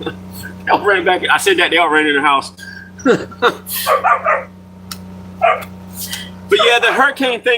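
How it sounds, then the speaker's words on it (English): Dogs bark and yip outdoors in short bursts over the steady hum of a running generator, with someone talking close by between and over the barks. "Y'all got to pardon the dogs barking and the generator running."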